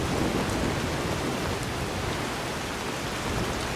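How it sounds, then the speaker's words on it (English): Steady rain falls in Skyrim under the Azurite Weathers mod, a continuous dense hiss of drops with a low rumble beneath, heard alone without talk. "You see all the weather here. The rain, the cloudiness."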